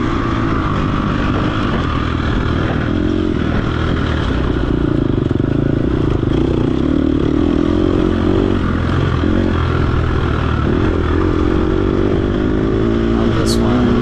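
Off-road motorcycle racing with a dirt bike's engine droning and revving steadily close by throughout, wind and engine roar dense, no clear talk above it.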